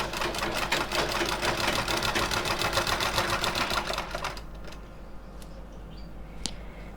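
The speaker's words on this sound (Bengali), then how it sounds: "এই পাশটাকেও ফোল্ড করে সেলাই করে নেব।" A sewing machine stitches fabric for a small Laddu Gopal deity dress, its fast rhythmic clatter running loud and close for several seconds before stopping, followed by quiet handling and a faint click.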